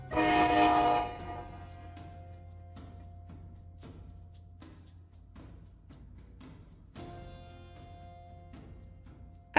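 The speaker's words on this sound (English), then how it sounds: "And that is a train on over here." A passing train sounds a loud, sustained horn blast at the start, then rolls on with rhythmic rail clacks and rumble that fade somewhat before a second, fainter horn-like tone returns.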